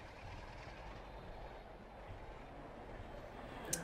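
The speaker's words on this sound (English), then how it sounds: "I guess we'll watch this train depart." A train pulling away in Trainz Simulator 3 on a British Midlands route, heard as a steady low rumble and wheel noise that holds even throughout, with a brief sharp high tick near the end.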